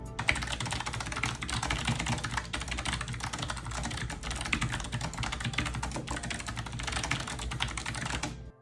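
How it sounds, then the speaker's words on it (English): Steady, fast typing on a Logitech MX Mechanical keyboard with clicky switches, each keystroke giving a crisp, close click in a continuous run with no talking. "First up is the MX Mechanical with clicky switches."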